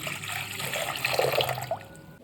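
Water poured into a cooking pot while preparing ragi mudde, a steady gurgling stream that rises in pitch as the vessel fills, then stops.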